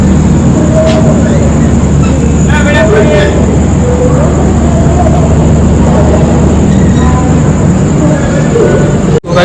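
A passenger train, a Holi special from Karmali to Lokmanya Tilak Terminus, departs a station, rumbling steadily with a constant mechanical drone and faint squeals, loud and close, as a voice speaks over the noise.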